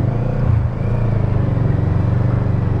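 Kawasaki Z650 and Honda CB650F motorcycles riding on a road, a steady low engine drone with rumbling and wind noise, close and fairly loud, without talk.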